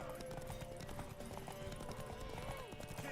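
Horse hooves clip-clop in the video game Witcher 3, a quick repeated rhythm of hoof strikes over game music and ambience, moderately close and fairly quiet.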